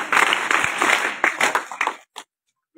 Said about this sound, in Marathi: सर्वप्रथम या सर्वांचं 3 टाळ्या वाजवून या ठिकाणी सत्कार स्वागत करायचे.